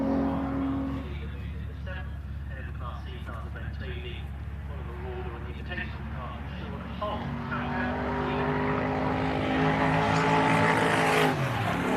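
A Mini Miglia race car engine at Silverstone roars loudly and steadily, rising in pitch toward the end as it accelerates, with a commentator talking over it.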